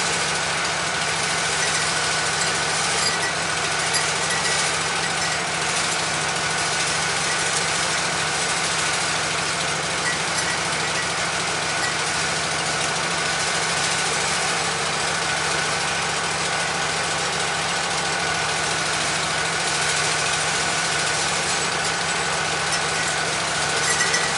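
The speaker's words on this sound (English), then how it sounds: "so the saw is warmed up" A Wood-Mizer LT15 sawmill engine idles continuously at moderate volume, a low even rumble with a faint hum and no talking.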